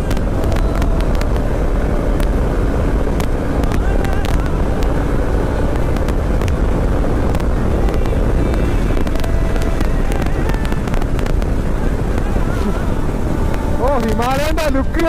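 A motorcycle engine running hard at about 116–117 km/h on a road near Kodaikanal, a steady loud drone with heavy wind rush throughout, and a voice talking over it.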